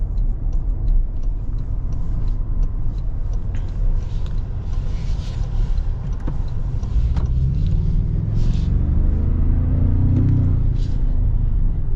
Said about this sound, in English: You get little turbo blow-off noises.